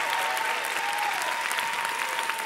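Church congregation applause, a steady, fairly loud wash of clapping from many hands, with a faint voice or tone held underneath.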